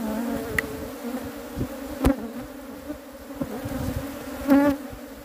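Honey bees buzz around an apiary, a steady droning hum close by with individual bees flying past the microphone now and then.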